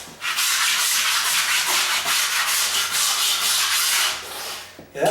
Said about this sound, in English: it's going to be harder and harder to scrape because I don't have as much weight over here